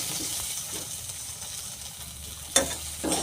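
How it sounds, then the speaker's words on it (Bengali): Cut potatoes fry in a pan of oil previously used for fish, a continuous close sizzle with occasional sharper stirring or spatter bursts toward the end. "এখন ওই তেলেতেই কেটে রাখা আলুগুলো ভেজে নেব।"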